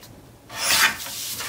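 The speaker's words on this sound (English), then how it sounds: "I'm going to collectively trim this at 4 in the trimmer." A paper trimmer slices through a scored card in one short, close rasping stroke.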